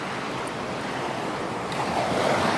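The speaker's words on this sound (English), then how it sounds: "And the sound of the waves." Sea waves wash onto a beach in a continuous broad hiss of surf, steady and fairly close, with some wind noise and a gentle swell toward the end.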